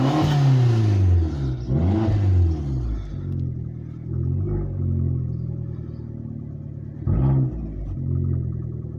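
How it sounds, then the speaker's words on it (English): A car engine revs up sharply, settles to a rumbling idle, then gets a couple of quick throttle blips, heard up close. "give it a blip on the throttle again"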